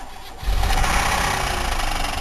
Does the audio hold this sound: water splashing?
no